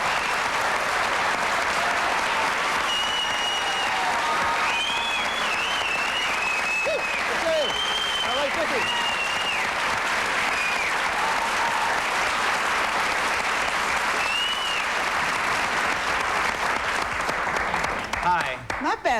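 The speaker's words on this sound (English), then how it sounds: "Not bad applause, right?" Studio audience at a 1992 daytime talk show claps steadily and loudly as a stand-up comic and his wife come on, with whoops and shouts rising over the dense applause throughout.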